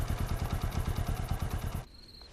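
A motorcycle idles close by with a fast, rhythmic engine chug, then cuts off abruptly, leaving near silence and a faint tone.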